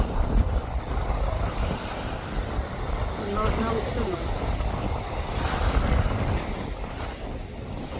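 Strong wind buffets the microphone on the deck of a ferry crossing from Dover to Calais, a loud continuous roar with the wash of the sea beneath it, while a voice speaks over it.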